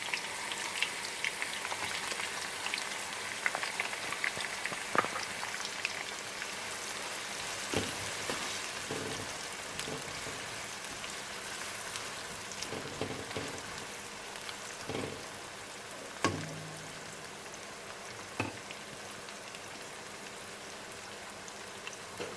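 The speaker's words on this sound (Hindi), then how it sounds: "ऑयल मैंने डाल लिया है कढ़ाई में। अब मैं इसमें प्याज ऐड करूँगी" Finely chopped onion frying in hot oil in a kadai, a steady soft sizzle and crackle with occasional sharper pops, close and continuous without talk.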